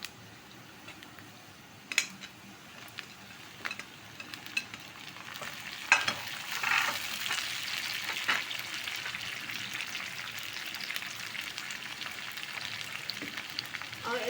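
Chopped tomatoes and green chillies tossed into a hot frying pan for aloo phalli sabzi, stirred with scattered spoon clinks over a building, steady sizzle, close by.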